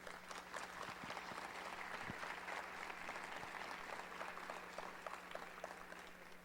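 Welcome applause from an academic plenary audience, a steady, fairly distant round of clapping with a low electrical hum underneath, recorded quietly and continuing evenly throughout.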